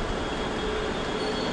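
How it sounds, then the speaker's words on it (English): A TransPennine Express train from Glasgow to Manchester Airport runs through a station without stopping, a steady close, loud roar of wheels and rails sustained throughout, with a faint high squeal above it. "This train's coming from Glasgow, it's going to Manchester Airport."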